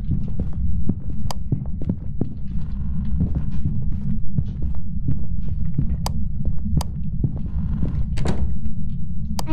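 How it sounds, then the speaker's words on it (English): Ghost footsteps in the horror game Phasmophobia: a run of sharp, irregular thuds and creaks over a loud, constant low rumble, fairly close, with no talk. "I hear footsteps."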